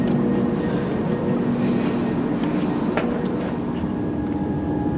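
A passenger train rumbles steadily along with a continuous low roar, faint rhythmic clatter of wheels, and occasional metallic squeaks, heard from inside the carriage.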